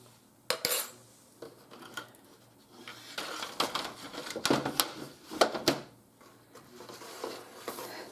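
A tray of dehydrated eggs is pulled out and handled, with clattering, clinking knocks and scrapes in irregular bursts, close by and moderately loud, without talk.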